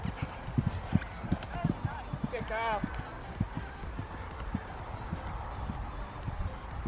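Horse hooves thud in a repeated clip-clop rhythm during a jumping ride in an arena, fairly close and steady throughout, while a rider speaks briefly over them.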